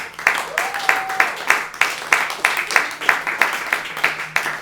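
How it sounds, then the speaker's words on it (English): Audience at a poetry slam claps in a slow, steady rhythm, with evenly spaced sharp beats through the whole stretch and a brief whistle-like tone near the start. "One more round of applause for all the fabulous poets."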